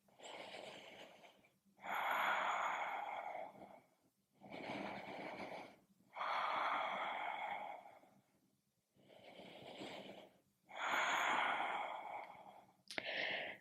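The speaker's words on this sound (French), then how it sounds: "Encore 3 respirations." Slow, deep yoga breaths in a calm setting, each long inhale and exhale heard up close as a breathy rush, with short silent pauses between them.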